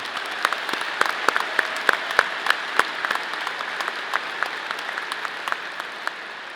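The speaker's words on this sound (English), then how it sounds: "let's give her another round of applause for that great national anthem" An audience at a Colorado State University engineering college ceremony applauds the national anthem singer, a steady patter of many hands clapping at moderate distance, with a few sharper claps standing out.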